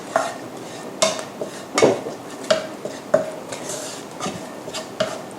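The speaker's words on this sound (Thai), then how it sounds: "ค่อยๆใจเย็นๆแล้วก็ คั่วไปเรื่อยๆนะคะ" Spices dry-roasting in a pan for Thai miang kham are stirred and turned, giving repeated close scrapes and clinks of utensil against pan over a steady hiss.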